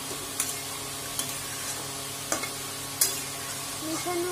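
Cauliflower and other vegetables stirred with water in a pan, a steady low sizzle with four sharp scraping knocks spaced about a second apart, close and alone.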